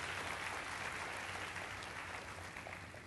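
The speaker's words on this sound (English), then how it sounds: "can we give a round of applause once again" Steady, dense applause from a large audience at a civil services talk in India, a continuous even wash of clapping heard from a distance at low level, with no voices over it.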